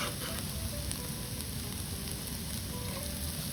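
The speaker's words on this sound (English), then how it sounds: "So you just cook the onions until they start to soften and turn slightly translucent. We can add our garlic." Onions and garlic fry in a pan with a steady, dense sizzle and crackle that holds at an even level throughout, close and moderately loud, with no voices.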